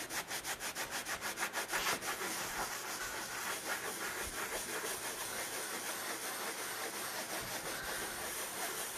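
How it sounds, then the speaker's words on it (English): A rag rubs over a textured burlap-style paint finish in a steady, continuous scrubbing hiss. It starts with rhythmic back-and-forth strokes, then settles into an even, close rasp with no voices. "So that sound is just my rag rubbing against the texture."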